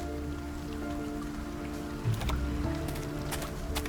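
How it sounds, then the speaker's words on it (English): Steady rain falling on a city street at night in a video game, a constant hiss over low ambient tones, with a few sharper splashy patters and clicks joining in the second half. "It's always raining."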